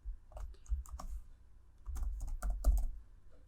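Computer keyboard typing while code is entered: irregular clusters of close, crisp key clicks in two quick flurries separated by a short lull.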